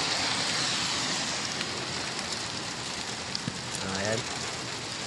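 First rainfall in Saudi Arabia, a steady hiss of rain pouring onto surfaces outdoors, with a voice speaking briefly over the constant wash.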